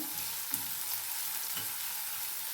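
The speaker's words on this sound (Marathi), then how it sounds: "तो पण ह्याच्यामध्ये टाकून द्यायचा आहे कांदा पण छान हलवून घ्यायचा आहे आपल्याला" Finely chopped onion frying in a pan, a soft steady sizzle broken by a few light scrapes of stirring.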